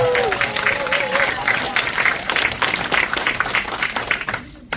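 Audience applause at a training seminar, a steady wash of clapping from a crowd of attendees that holds for several seconds before cutting off abruptly, with some voices mixed in.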